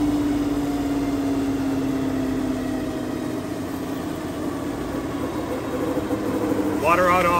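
A Harben jetter engine idles steadily and fairly loudly, a constant drone running throughout, with a brief rising tonal sound near the end.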